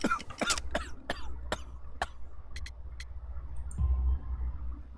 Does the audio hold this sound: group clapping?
no